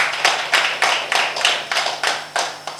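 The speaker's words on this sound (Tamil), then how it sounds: "கைத்தட்டுங்க" A seated audience at a Tamil talk on astrology and wealth claps in rhythmic bursts, roughly one sharp burst every half second, steady and moderately loud with no voices over it.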